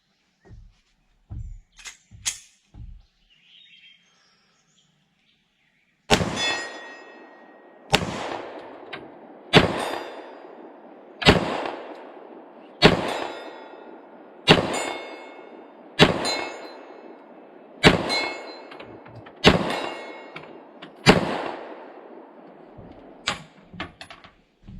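A 9mm S&W M&P 2.0 Compact Carry Comp pistol fires at steel targets 40 yards away: a few quiet clicks, then nine loud, evenly spaced shots, each followed by a bright ringing clang of the steel.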